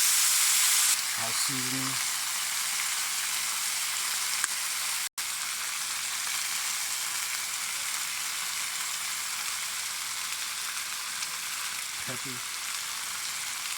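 Onions and green beans frying in a pan, a constant loud sizzle and hiss throughout, with brief spoken remarks over it.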